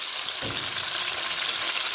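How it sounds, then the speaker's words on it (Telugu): Eggs frying in a pan, a dense, bright, continuous sizzle heard up close with no talk. "గోల్డెన్ బ్రౌన్ కలర్ వచ్చేదాకా వేయించుకోవాలి ఎగ్స్ని."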